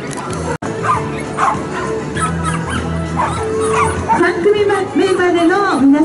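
Several dogs bark, yip and whimper at an outdoor dog sports day, loud and close, with a voice talking over them throughout.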